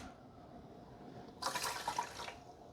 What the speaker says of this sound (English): let's add the white rice and then the water